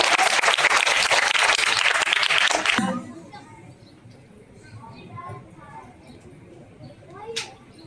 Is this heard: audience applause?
yes